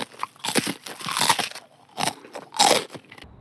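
Cauliflower chips served as an in-flight snack crunched in several bursts, crisp close bites and chewing with short pauses between, no talking.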